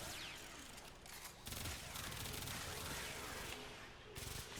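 Rapid automatic fire from the Baza Prime in Warframe, a dense continuous stream of shots in long bursts with brief gaps between them, loud and close.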